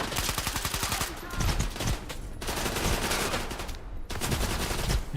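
Rapid automatic gunfire in the shooter game STALKER GAMMA, loud dense bursts with short gaps between them.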